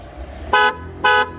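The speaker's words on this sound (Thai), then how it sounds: "เวลาบีบแตรค่ะจะเป็นประมาณนี้" Two short, loud horn blasts from a 2023 Honda Forza scooter, each about a fifth of a second long and evenly spaced, sounding close by over a low idle hum.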